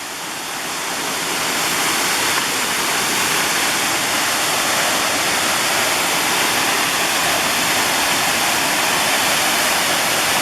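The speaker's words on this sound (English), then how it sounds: "it's pretty loud down here, of course, with all the water" The waterfall at Ohiopyle roars close by, a loud, unbroken rush of falling water that rises in the first two seconds and then stays constant and heavy, with no voices over it.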